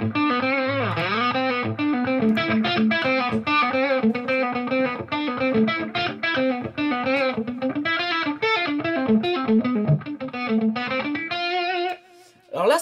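Electric guitar through a vintage Marshall amp head with light crunch, busy picked chords and single-note lines, moderately loud and close, with a short drop near the end before a final strum.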